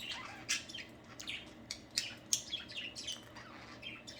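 Pet budgies chirp and squawk in a busy run of sharp, bright calls, several birds overlapping at close range with no talking.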